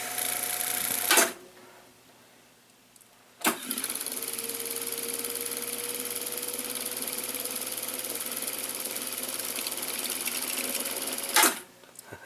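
A Pioneer RT-1020 reel-to-reel tape deck spools at high speed in fast forward and rewind, giving a loud, steady whirring hiss with sharp clunks as the transport switches modes, close to the deck.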